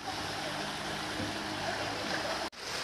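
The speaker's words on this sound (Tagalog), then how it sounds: "Pababa tayo dito sa ilog." Steady rushing of river water in a rural province, a continuous close wash of flow with a brief dip near the end and no voices.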